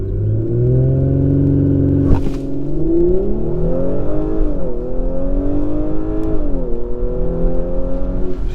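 A 2021 Audi S4 Premium Plus in sport transmission mode with stability control off accelerates hard, its engine droning loud and steady, rising in pitch through the gears, with a brief shift break and continuous close rumble.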